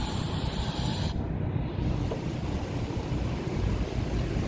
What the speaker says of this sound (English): So I'm just going to spray it right in there.